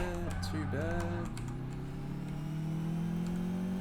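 Computer keyboard typing clicks under a racing video game's engine drone and steady driving audio, with someone talking over it.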